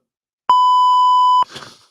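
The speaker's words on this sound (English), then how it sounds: "do you have that beep handy?" A single clean electronic beep, a steady pure tone held for about a second at close range, followed by a short burst of noisy rustle as it ends.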